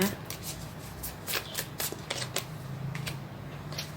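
A deck of tarot cards is shuffled up close in rapid, crisp riffling bursts that repeat steadily throughout.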